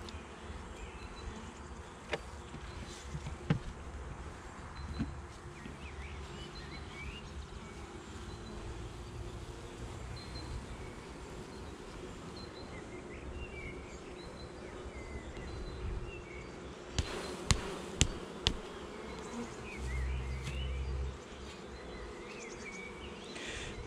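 Honeybees hum steadily through a first spring hive inspection at an apiary, a continuous buzzing bed with a few sharp knocks and clatters of frames near the end.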